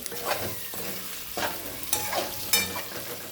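Fish pieces fry in hot oil for a homemade fish curry, giving a steady close sizzle. Stirring scrapes and clinks recur every half-second or so through the frying.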